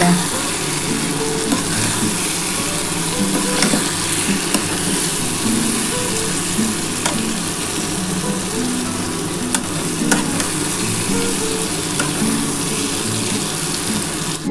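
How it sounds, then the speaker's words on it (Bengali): Spice paste frying and being stirred in a pan with potatoes and drumsticks, a loud, steady close sizzle that never lets up, with occasional scrapes and clinks from the stirring. "এবার এই মশলাটা দিয়ে ভালোভাবে কষিয়ে নিতে হবে।"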